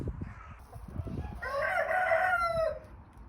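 Hens in a dim chicken shed sound off in a loud, sustained crowing-like call that rises and holds for about a second, over low scattered clucks and shuffling from the flock.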